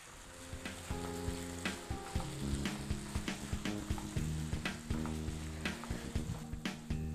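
Veg Hakka noodles stir-fried with a splash of vinegar in a hot pan: a constant close sizzle broken by rhythmic scraping and tossing strokes of the spatula, with no voices.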